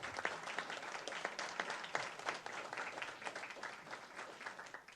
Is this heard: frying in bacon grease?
no